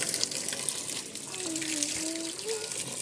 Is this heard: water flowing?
yes